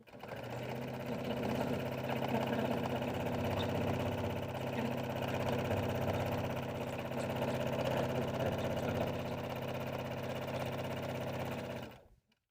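Sewing machine running steadily as it stitches down both sides and the bottom edge of a fabric bag's exterior, a continuous close mechanical whir with fine rhythmic ticking that holds for about twelve seconds and then stops.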